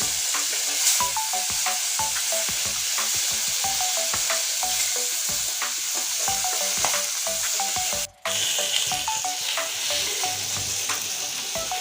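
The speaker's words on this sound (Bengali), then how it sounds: "এই তখন মাছগুলো ভেজে নিয়েছি একদম লাল করে নামিয়ে নিচ্ছি" Boal fish pieces frying in a pan of hot oil for a curry, a steady loud sizzle with repeated stirring and scraping clicks throughout, one brief drop near the end.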